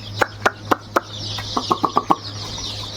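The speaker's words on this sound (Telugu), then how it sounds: "సో ఇక్కడ కనిపిస్తున్నాయి కొడిపిల్లలు సో ఇవి ఏంటంటే గిరిజా కోళ్ళు అంట" Country chickens, the Giriraja breed, give a series of short, sharp clucks close by: several evenly spaced calls, then a quicker run of clucks, with no talking.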